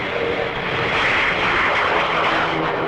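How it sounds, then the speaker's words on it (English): Loud, steady roar of a Hawker naval fighter aircraft engine, a continuous broadband drone with no talking over it. "the Hawker naval fighter"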